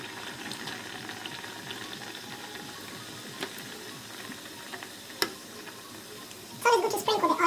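Mandazi, cardamom and coconut milk doughnuts, fry in hot oil with a low, continuous bubbling crackle and scattered ticks, then a louder burst of sputtering near the end.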